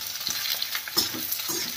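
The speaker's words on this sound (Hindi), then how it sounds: "तो हम इसे हल्का सा गुलाबी होने तक रोस्ट करेंगे।" Cubes of paneer roasting in a hot pan with green and yellow bell peppers give a close, steady sizzle broken by soft stirring scrapes, with no one speaking.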